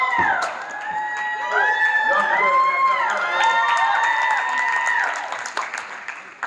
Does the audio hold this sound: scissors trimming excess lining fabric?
no